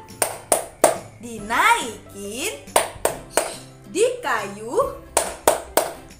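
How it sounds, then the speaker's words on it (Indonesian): Children's hand-clapping game called the bicycle clap, on a transport theme: sharp, close hand claps land in quick rhythmic bursts between stretches of sung and spoken chanting by a voice leading the game. "Sekali lagi, kita coba tepuk sepeda."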